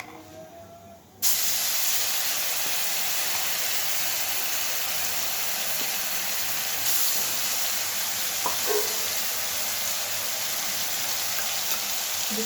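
Garlic paste dropped into hot oil on a low gas flame, bursting into a loud, steady sizzle that holds evenly for the rest of the clip, with a few faint clinks of utensils.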